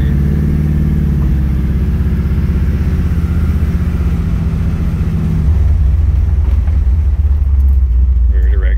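A 1969 Chevrolet Camaro on a lap, its engine rumbling loud and steady with shifting harmonic tones as it drives, the deep drone continuing without a break throughout.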